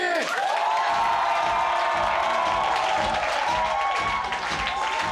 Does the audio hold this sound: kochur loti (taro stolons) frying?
no